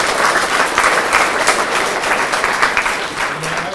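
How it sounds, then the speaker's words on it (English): An audience claps in dense, steady applause at a DARE school graduation, loud and continuous throughout, with no distinct voices. "How about a round of applause?"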